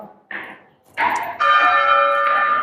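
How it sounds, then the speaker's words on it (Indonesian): An automatic church bell rings high in the wooden-laddered tower of the Santo Yusuf parish church in Ambarawa, starting with short struck tones and then settling into a sustained, ringing chime that hangs steadily. "Nah, itu udah lonceng sendiri,"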